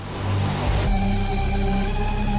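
Electronic track with an unresampled kick drum: a heavy, continuous low-end rumble with a sustained bass tone entering about a second in, dense and loud throughout with no clear separate hits.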